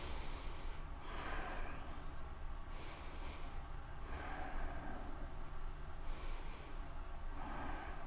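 Slow, steady breaths during a yoga side-twist pose, with several soft airy inhales and exhales spaced a couple of seconds apart over a constant low background hum.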